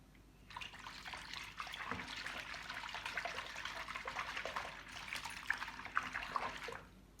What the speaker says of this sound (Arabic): وهحط بقى شويه كلوركس